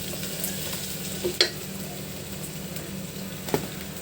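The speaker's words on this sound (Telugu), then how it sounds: "అల్లం వెల్లుల్లి పేస్ట్ వేసి బాగా పచ్చి వాసన పోయేంత వరకు బాగా ఫ్రై చేయాలి." Ginger garlic paste fries in a pan for egg biryani, making a soft, steady sizzle close up with a few sharp spoon clinks and stirring knocks, and no voices.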